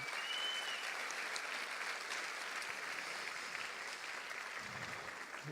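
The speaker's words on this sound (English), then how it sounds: "So if we can give them a round of applause, that'd be awesome" Steady applause from a conference audience at a real estate event, a quiet, distant wash of many hands clapping that carries on evenly throughout.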